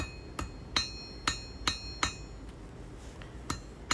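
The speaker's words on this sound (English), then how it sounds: "even though that's a great big hammer, just because I was too lazy to go find my smaller hammer, I'm managing just fine by using light blows" A large hammer strikes hot steel on an anvil over a coal forge, drawing out a long taper with light blows. About nine sharp, ringing metallic hits land at a fairly steady rhythm, close and clear, with no talking.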